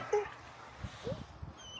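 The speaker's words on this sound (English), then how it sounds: "There's dogs running around." Dogs at an RV campground give a few short yips and whimpers, faint and somewhat distant, over quiet outdoor background with a low voice nearby.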